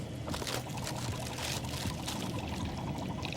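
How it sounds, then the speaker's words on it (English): Cereal tipped into a small beaker of water gives a steady, low pouring and trickling wash that runs continuously without pauses, close and moderately quiet. "Now watch what happens when we add some cereal to this little beaker of water"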